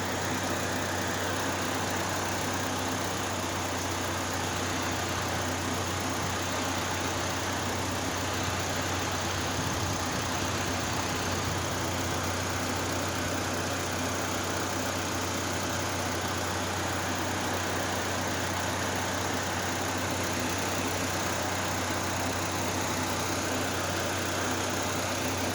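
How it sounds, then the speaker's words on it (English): A car engine idles steadily with its AC compressor clutch engaged and turning during an air-conditioning recharge, a loud, unbroken mechanical hum and whine with no pauses. "We want that compressor clutch to be turning."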